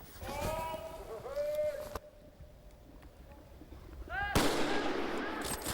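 A gunshot rings out during a driven wild boar hunt in France, a sharp crack followed by a brief echo in the open woods, with voices and outdoor sounds around it.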